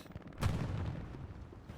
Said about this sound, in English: Oh, that's another explosion. I heard that.